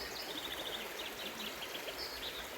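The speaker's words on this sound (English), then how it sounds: "water's dripping from the millbank bag" Water dripping from a millbank filter bag at a riverside island camp, a steady patter of fine drops against a constant background of flowing stream water and faint birdsong.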